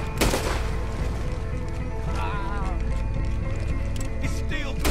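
Gunfire crackles through a horseback pursuit in Red Dead Redemption 2, with sharp shots over a steady rumble of hooves and game noise while people talk throughout.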